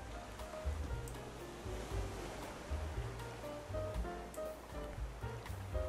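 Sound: ocean waves in the video game Raft

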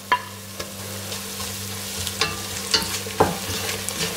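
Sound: garlic and ginger frying in a pan for Ambur chicken biriyani

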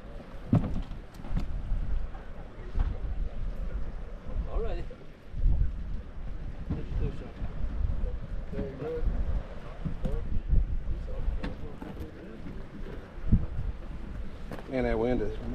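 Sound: strong wind on a lake during a catfish tournament

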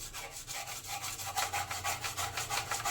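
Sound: scrubbing corners clean with a brush

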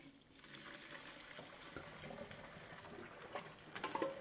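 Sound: draining cooked spaghettini through a strainer

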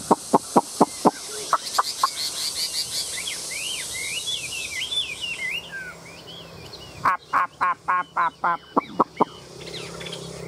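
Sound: Chinese hwamei songbird singing alone

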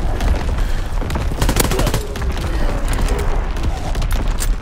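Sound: artillery battery firing, from video game Call of Duty: WWII

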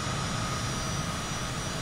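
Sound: Cessna Citation CJ4 jet climbing after takeoff

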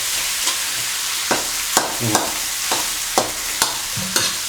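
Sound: stirring spicy fried catfish in a pan

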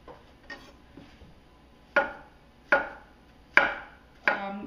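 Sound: knife slicing a peeled banana

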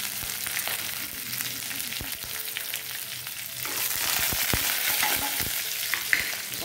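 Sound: green chillies and whole red chillies frying in oil

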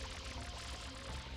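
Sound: water spraying in video game Super Mario Sunshine

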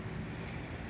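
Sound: flooded Housatonic River rushing

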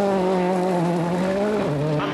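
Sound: Richard Burns' WRC rally car racing, Rally New Zealand 2002

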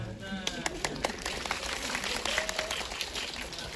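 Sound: audience applause

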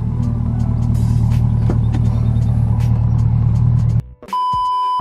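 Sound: C8 Corvette driving on the road

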